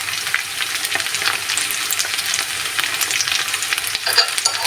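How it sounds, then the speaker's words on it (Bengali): Ginger garlic paste with turmeric fries and sizzles in a pan for prawn bhuna, a steady close crackle with stirring throughout. "আদা রসুন বাটা দিয়ে 1 মিনিটের মতো আমি ভেজে নিয়েছি।"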